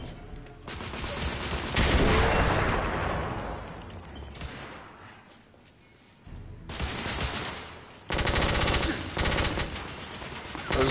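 Heavy gunfire from a weapon in the game The Order: 1886, loud sustained bursts of rapid automatic fire that surge, briefly fade to quieter rumbling, then return hard and dense near the end.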